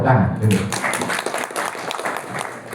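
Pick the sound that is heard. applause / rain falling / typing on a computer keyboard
applause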